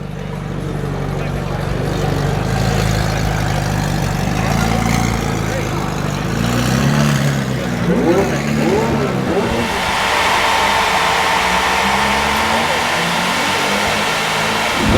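At a Cars & Coffee show in Orange County, a car engine revs loudly and pulls away close by, rising and then fading beneath nearby crowd chatter and someone talking.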